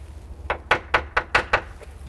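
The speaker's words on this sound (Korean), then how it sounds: "이 망치로 어, 해머링 테스트를 해요" A small hammer taps the bottom of a fiberglass boat hull six times in an even rhythm during a hull inspection, each tap a short, hollow, close knock.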